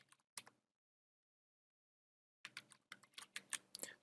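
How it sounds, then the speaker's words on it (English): Keystrokes on a computer keyboard: a couple of quiet taps, a second of silence, then a quick run of close, crisp typing clicks. "typing this, pressing enter, choosing second option"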